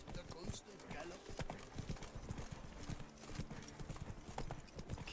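Horse hooves pounding in a steady galloping clip-clop rhythm while riding in The Witcher 3: Blood and Wine, close and continuous under faint background ambience and someone talking.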